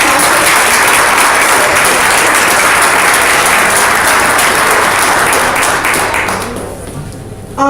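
A crowd applauds at an NYPD recognition event held by a ministry, with loud, dense, sustained clapping that fades out near the end.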